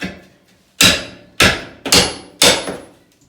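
Heavy hammer blows knock at a bathroom wall during demolition: four loud, sharp impacts with ringing tails, spaced roughly half a second apart after a fainter opening knock, close and alone.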